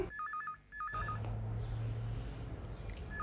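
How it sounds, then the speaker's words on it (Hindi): A telephone rings in a Hindi TV sitcom household, an electronic trilling ring in short repeated bursts, then a loud noisy rush of background sound takes over. "अरे टेलीफोन है, टेलीफोन है।"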